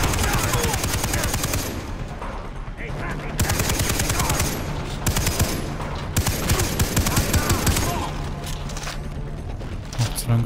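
Rapid bursts of automatic gunfire from the Far Cry 3 video game, loud and dense, firing in long volleys with short breaks throughout.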